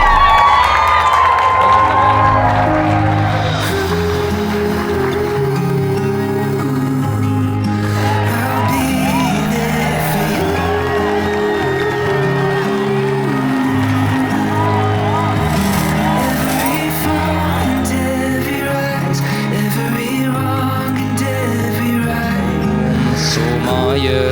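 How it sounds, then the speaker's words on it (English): Guests at a Toronto wedding cheer, whoop and clap over loud festive music, the crowd noise continuous and lively throughout, with voices calling out in between. "Big round of applause."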